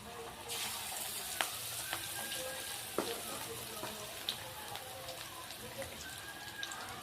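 Food sliding into hot white cooking oil in a home kitchen sets off a steady, moderate sizzle with scattered pops and crackles that keeps going throughout, with no one talking.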